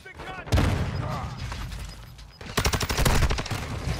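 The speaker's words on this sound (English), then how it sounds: "Nice shooting, Uzi, nice shooting." Rapid bursts of Uzi submachine-gun fire in the video game Call of Duty: Modern Warfare 2, loud sustained rattling in two volleys with a short lull between, under a voice talking.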